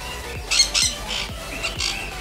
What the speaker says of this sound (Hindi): देखिए यहाँ तोते भी हैं बहुत ढेर सारे